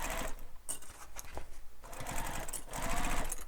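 Sewing machine stitching a crossbody bag runs in quick mechanical bursts, close and loud, pausing briefly between runs of rapid needle strokes.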